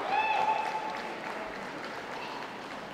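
Audience at the City of Birmingham 2016 dog show applauding the toy group winners, a steady wash of clapping throughout with a brief tonal whistle-like note near the start.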